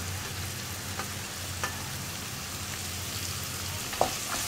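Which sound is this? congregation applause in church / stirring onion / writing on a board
stirring onion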